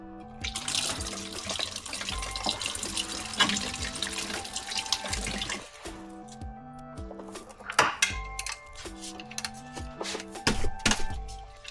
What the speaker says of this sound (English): So I'm going to drain the oil, drain the coolant